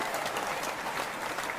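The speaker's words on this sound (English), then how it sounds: "We can give him a clap." A studio audience claps steadily for a guest on a talk show, a dense, even patter of many hands with no voices over it.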